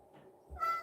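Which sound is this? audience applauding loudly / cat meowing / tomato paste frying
cat meowing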